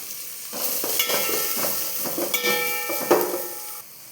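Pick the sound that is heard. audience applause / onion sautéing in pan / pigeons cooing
onion sautéing in pan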